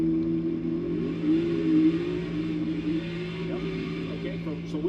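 NASCAR Xfinity race cars at New Hampshire roar as they accelerate on a restart, a steady loud engine drone with a rising pitch, heard through broadcast audio.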